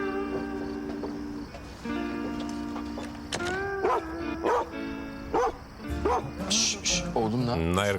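A dog barks and yips in several short bursts in an indoor drama scene, the barks clear over continuous background music and occasional voices.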